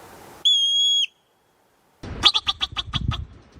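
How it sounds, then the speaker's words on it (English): A marmot gives a sharp, steady whistle lasting about half a second. After a pause comes a quick burst of several short, loud calls in rapid succession over low rumbling noise. "Marmots are famous for their sharp whistles and warning cries."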